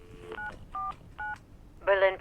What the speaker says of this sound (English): The phone in the office.